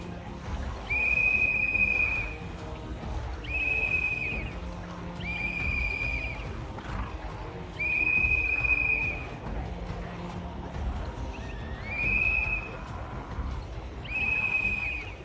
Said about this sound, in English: they added a whistle to the game a while back